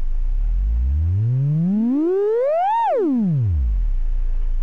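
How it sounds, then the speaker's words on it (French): A pure sine wave from a modular synthesizer VCO oscillator sweeps smoothly upward in pitch over about three seconds, then falls back down quickly, clear and steady with no other sounds. "Donc une forme d'onde sinusoïdale."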